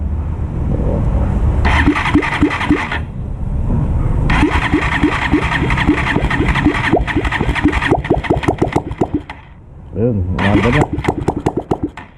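Small Honda TMX motorcycle engine cranks and starts after a spark plug change, chugging unevenly in bursts, revving up and stalling, with a voice talking over it nearby.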